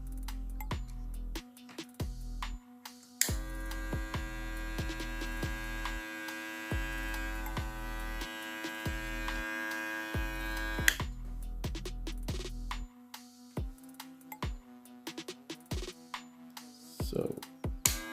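A plugged-in Wahl 1919 hair clipper gives a steady motor hum, with a louder stretch of running in the middle. Sharp ticks and handling clicks come and go throughout.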